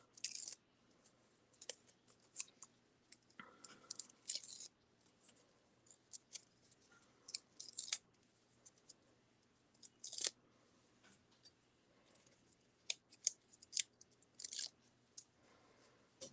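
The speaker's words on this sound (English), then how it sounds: "I'm going to take all this release paper off." Release paper peels off a die-cut paper card in quiet crinkles and crisp tearing rustles, short bursts spread irregularly with soft handling noises between, close and faint.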